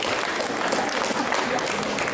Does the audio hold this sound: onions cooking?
no